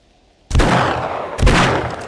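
Loud gunfire bursts from a firearm in the survival video game 7 Days To Die, two sharp volleys in quick succession, the second following about a second after the first.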